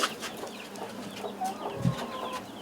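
Hens cluck softly in short scattered calls against a faint outdoor background in a war-damaged village in Kharkiv region, a few brief bursts spread over a couple of seconds.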